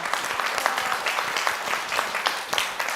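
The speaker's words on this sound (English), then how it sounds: "So please join me giving a round of applause to them." Audience at a closing session of an urban transformation event gives a round of applause, a dense, continuous patter of many hands clapping at moderate loudness throughout.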